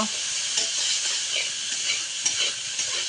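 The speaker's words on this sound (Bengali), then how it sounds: "এখন পেঁয়াজ জ্বালাইয়া বালা করে লাড়ানি হইব, পেঁয়াজটা এখন লাল করানি হইব।" Onions frying in a pan, stirred with a steady sizzle and repeated scraping strokes of a spatula, close and fairly loud, no voices over it.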